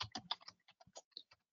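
Typing on a computer keyboard while entering a payment note in business software, a quick run of close, crisp key clicks with short pauses between bursts and no voices.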